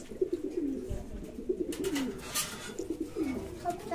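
Fancy pigeons, including blue satinette and white wool males, cooing in a loft: repeated soft, rolling coos in a steady rhythm, close by, with light rustling and faint background noise.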